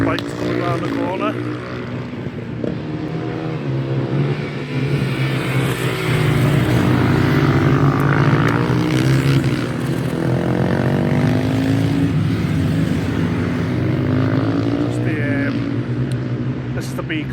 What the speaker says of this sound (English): Some pictures of the bikes coming around the corner.